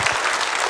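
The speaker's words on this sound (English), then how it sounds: "a big round of applause to Venkat Garu" Audience applause at a Bhagavad Gita chanting gathering: a brief burst of steady, dense clapping from a crowd, fairly loud and close, with no voices over it.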